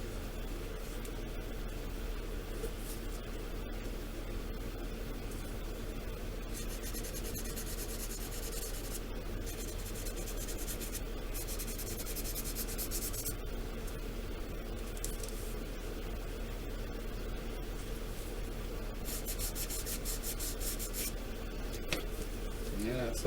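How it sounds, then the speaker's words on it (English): Surface putty being sanded on the seams of a plastic War of the Worlds war machine model kit, with repeated close scratchy rubbing strokes in bursts over a quiet steady hum. "That's why I do the surface putty. It's really nice because it sands really easy."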